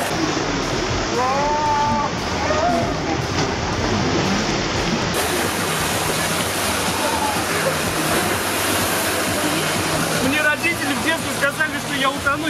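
Water rushes and splashes continuously at a water park slide, a loud, steady wash of spray and flow, while people's voices break through above it.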